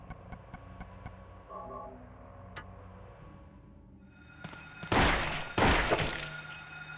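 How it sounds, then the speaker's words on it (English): A hammer striking an enemy in the video game Silent Hill 2: two heavy, loud crunching thuds land near the end, after quieter game ambience with scattered ticks. "This hammer's not doing the job."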